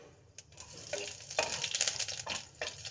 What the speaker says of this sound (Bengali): পাঁচফোড়নটাকে ভাজতে থাকবো